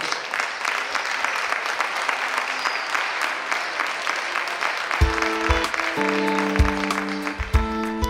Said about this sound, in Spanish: yo os pediría un fuerte aplauso para este lote de novillas